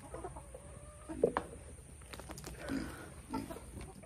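Chickens clucking softly on a farm with a donkey around, a few short clucks scattered over a low background murmur, moderately distant and fairly faint, with no talking.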